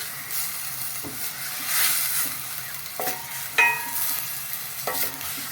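A utensil stirs an egg and onion mixture in a frying pan, with soft sizzling throughout and a few sharp scrapes and clicks against the pan.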